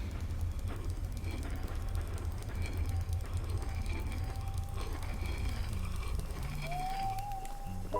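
A train rumbles past with a steady low roar and rattling wheels, and a thin squeal or whistle rises near the end, a continuous moving-rail sound from a video game.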